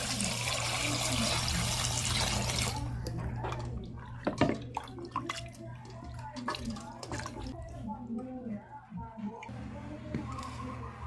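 Raw chicken feet are washed under running water, with splashing and trickling for several seconds, then wet handling and dripping, while a person talks over it.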